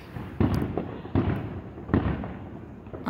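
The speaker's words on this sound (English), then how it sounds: "Today, shooting off fireworks and the show already started." Fourth of July fireworks go off in the distance, three sharp booms spaced under a second apart, each followed by a crackling, rumbling tail.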